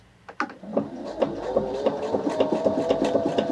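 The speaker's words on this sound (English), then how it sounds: "when we start stitching on that Quilt Expression 725" A Pfaff Quilt Expression 725 sewing machine starts up and stitches in a quick, regular mechanical patter, close and steady with a low motor hum underneath.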